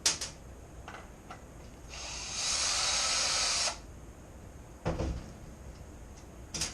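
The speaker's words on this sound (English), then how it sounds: "using a Phillips screwdriver or a drill, remove your screws." A power drill whirs steadily for under two seconds removing screws from a jig mold, preceded by a couple of short clicks and followed by a sharp knock, with a quiet background.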